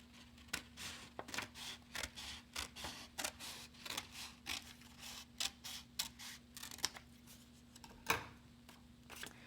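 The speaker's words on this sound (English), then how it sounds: "take your scissors and cut your triangle out" Scissors snipping through paper to cut out a triangle shape, a run of quiet, close crisp clicks in an uneven, unhurried rhythm over faint background hum.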